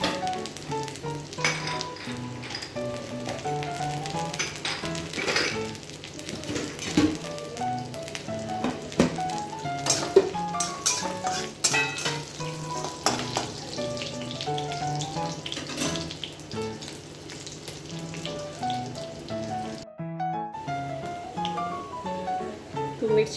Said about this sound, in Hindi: तो मिर्ची बहुत ही अच्छे से भून चुका है।